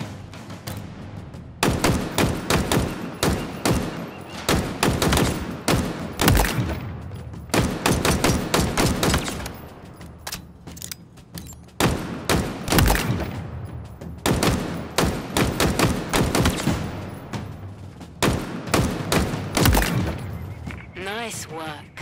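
Rapid bursts of gunfire ring out in Halo Infinite as weapons are fired at training targets, loud, repeated volleys running almost continuously with only short pauses between them, while a voice speaks over the shooting.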